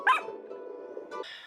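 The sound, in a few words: small dog barking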